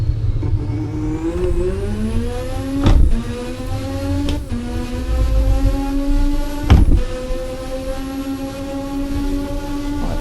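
A Thrustmaster TH8A shifter clacks sharply a few times as it moves through the gates, while an Assetto Corsa car engine revs and climbs steadily underneath.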